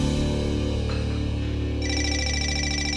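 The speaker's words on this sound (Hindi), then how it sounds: "फोन बज रहा है, जरा देखो कौन है।" A telephone rings indoors in a drama scene, a repeating electronic ringtone that starts partway through over a steady low background hum, fairly loud and close.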